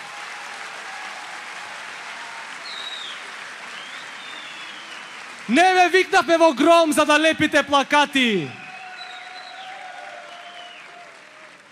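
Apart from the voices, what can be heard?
applause from the young audience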